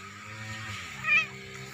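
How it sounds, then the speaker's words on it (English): A cat in a garden lets out a short meow, close and moderately loud, rising briefly over a soft low background hum. "Meow. Meow."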